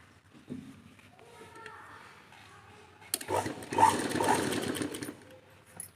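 A sewing machine starts slowly, then runs in a steady close whir while stitching a back-hook blouse, after a few seconds of quiet handling sounds with faint speech in the background.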